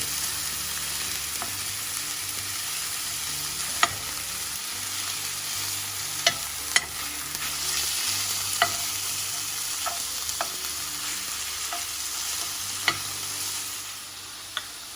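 Ground beef frying in a pan while being stirred and broken apart, a steady crackling sizzle broken by sharp scrapes and taps of the utensil, close and continuous with no talking.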